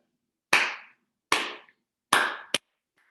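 Three sharp hand claps spaced about evenly, each with a short decaying ring, followed by a quick fourth clap and a faint tap at the end, close and alone in a quiet room during a bingo music lesson.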